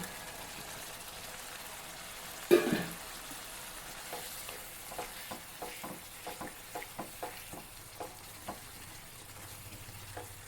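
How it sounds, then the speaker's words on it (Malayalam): Prawns fry in ghee in a pan for a Kerala-style ghee roast: after a sharp clatter as they go in, a soft steady sizzle runs on, with a string of light stirring taps and scrapes coming close together. "നമുക്ക് നെയ്യൊക്കെ ഇങ്ങനെ തെളിഞ്ഞ് വരുന്ന സമയത്ത് ഇനി നമുക്ക് ചെമ്മീൻ ഇട്ട് കൊടുക്കാം"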